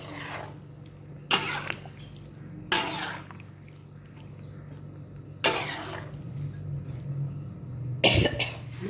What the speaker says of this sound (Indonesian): Ada batuk.